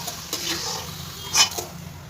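Potatoes frying in oil in a pan while being stirred, with soft scraping and clinks of a utensil against the pan over a light sizzle, plus a louder scrape near the end.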